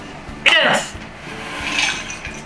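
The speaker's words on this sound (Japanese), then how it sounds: "ビールいきたいなと思ったらほとんど泡になっちゃったね。" Beer poured into a glass with a ramen meal, turning almost entirely to foam: a short gurgling, splashing pour near the start, then a softer fizzing hiss later in the clip.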